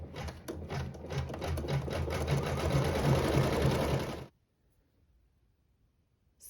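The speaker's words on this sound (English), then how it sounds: "you'll place the thread color of your choice in the needle and sew the decorative stitching" An embroidery sewing machine runs steadily for about four seconds, stitching decorative thread on a quilt block over tearaway stabilizer with a rapid, even needle rhythm, then stops abruptly into near silence.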